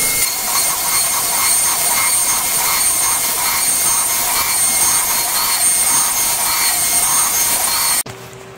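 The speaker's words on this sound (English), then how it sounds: "So I'm going to put this in, zero this, and then run the surfacing program." A Onefinity CNC router surfacing a threaded wasteboard with a surfacing bit, a loud steady high-pitched whine of spindle and cutting that runs unbroken before stopping abruptly near the end.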